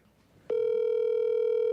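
A steady telephone tone starts abruptly after a brief quiet moment and holds at an even, loud level to the end, heard while a call is placed to a quarterback.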